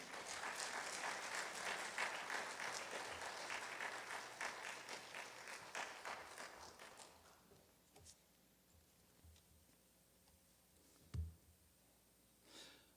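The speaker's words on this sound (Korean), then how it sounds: "우리 목사님 나오실 때 환영의 박수로 환영하겠습니다" A church congregation at a Sunday service applauds to welcome the pastor, sustained clapping that gradually thins and fades out, followed by quiet room noise with a few faint bumps.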